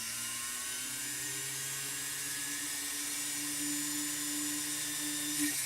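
A small high-speed drill bit pierces a hole with a steady, thin whine and sustained tonal hum, holding evenly close to the microphone for several seconds without talk.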